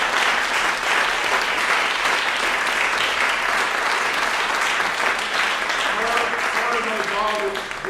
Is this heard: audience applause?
yes